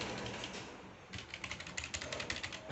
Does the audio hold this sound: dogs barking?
no